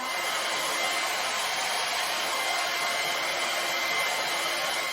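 A hair dryer blows steadily and loudly up close, a constant airy whoosh with a high whine that holds without a break.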